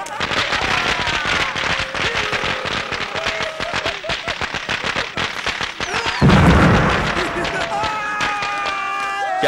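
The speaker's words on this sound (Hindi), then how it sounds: "पटाखे किस खुशी में जला रहे हो?" A long string of firecrackers crackles in rapid, dense pops that run without a break, loud and near, with voices speaking during the bursts.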